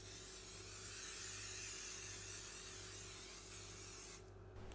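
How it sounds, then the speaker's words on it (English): A continuous hissing spray of cooking oil from an aerosol can onto a cupcake tray, close and steady for about four seconds before cutting off. "spray the cupcake tray with cooking oil"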